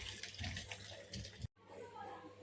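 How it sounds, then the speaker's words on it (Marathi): Tamarind pulp and melted jaggery water strained through a sieve in a home kitchen, giving a steady pouring, trickling wash for about a second and a half. It is cut off abruptly, then a softer splashing trickle follows. "ह्या चाळणीवरती आपण हे आता चिंचेचं गुळाचं पाणी गाळून घेऊ"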